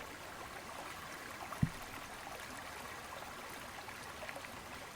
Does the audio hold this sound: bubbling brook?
yes